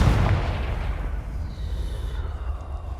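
Confringo fire spell going off in Hogwarts Legacy, a loud booming blast at the start that rolls into a low rumbling tail, no voices.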